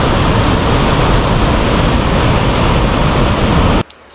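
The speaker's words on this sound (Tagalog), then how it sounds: "Ang lakas ng agos." Strong river current after a typhoon in mountainous Benguet, a loud, dense, steady rush of water close by that cuts off abruptly near the end.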